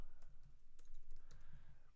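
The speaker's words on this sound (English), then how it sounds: "Pause for me typing this out." Steady typing on a computer keyboard during an online tabletop game session, with rapid, continuous key taps at close range and no talk over them.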